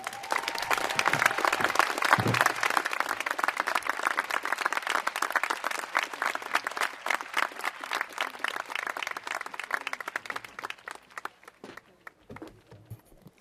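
Commencement ceremony audience applauding after a speech, a dense, loud wash of many hands clapping that holds steady for about ten seconds before thinning and fading toward the end.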